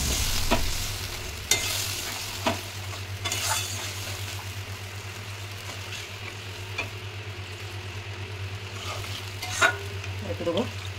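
Water hits a pan of frying spice paste for a bhetki fish curry, giving a continuous close sizzle and bubbling hiss with occasional sharp clinks of a spoon against the pan.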